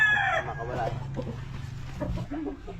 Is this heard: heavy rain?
no